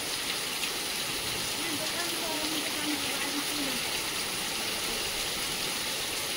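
Heavy rain falls steadily in a village, a dense continuous hiss of water on surfaces with no breaks, fairly loud and even throughout, joined by a faint low tonal call in the background.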